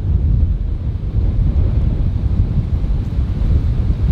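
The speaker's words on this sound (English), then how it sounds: "That wind right now is kicking" Strong wind buffets the microphone at the waterside while fishing, a loud, continuous low roar with steady rumbling gusts throughout and no voices.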